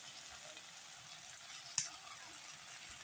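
Turmeric and chilli powder sizzle softly in a pan while being stirred with a spoon, a faint, even crackle with one sharp tap of the spoon partway through.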